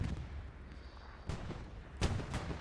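Tank shelling from a Panzer IV in the World War II shooter Hell Let Loose, heard as two distant booming impacts about three-quarters of a second apart over a low rumbling battlefield background.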